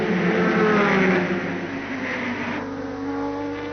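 Endurance race cars at the 1991 Le Mans 24 Hours, including a Sauber Mercedes and a Silk Cut Jaguar XJR12, roaring past with loud high engine notes that swell, then fade and shift pitch as they go by.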